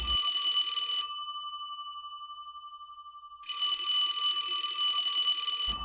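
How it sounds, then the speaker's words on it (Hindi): An electronic telephone ring sounds in two bursts separated by a ringing decay, bright and metallic, at night, with nothing else heard. "तभी फ़ोन की घंटी बजती है।"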